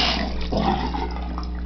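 Water swirling and gurgling down a drain through a funnel, a steady close rushing wash with a brief louder slosh midway, no voices.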